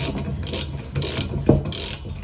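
Metallic ratcheting clicks from a wrench as bolts on a Bolens sleeve hitch are loosened, with a sharper crack midway through; close and fairly steady.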